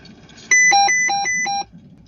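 A weather station alarm sounds during a hurricane-season broadcast, a loud electronic beeping pattern of repeated alternating tones lasting about a second before cutting off.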